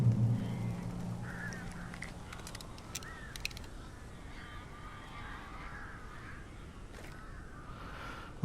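Crows caw in the video game Alan Wake, several scattered calls at moderate distance over a quiet, hissing ambient background, with no one speaking.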